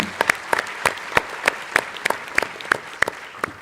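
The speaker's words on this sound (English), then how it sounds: "I think you all need a hand of applause," A room of participants at a UN water preparatory meeting in Dakar gives a round of applause, steady overlapping clapping with distinct sharp claps recurring throughout, fairly close and lively.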